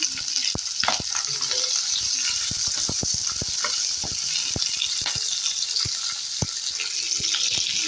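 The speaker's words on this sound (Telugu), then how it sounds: "నెక్స్ట్ క్యాప్సికమ్ ముక్కలు కూడా వేసి వేగనివ్వాలి" Onion and capsicum pieces fry in a pan for restaurant-style baby corn Manchuria, a steady close sizzle punctuated by frequent sharp ladle taps and scrapes, with no speech.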